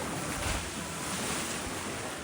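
Steady wind rush and ocean surf wash continuously around a sailboat running under good wind into Miracle Bay off St. Lucia, loud and broadband with microphone buffeting throughout.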